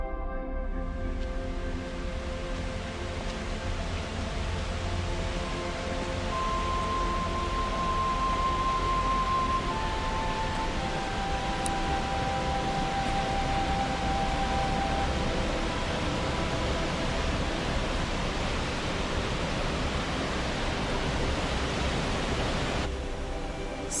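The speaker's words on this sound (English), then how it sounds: "let's listen to the sound of the waterfall in the distance." Distant waterfall in the Catskills of New York: a broad, steady rushing hiss holding constant throughout, with faint tonal whistles drifting over it.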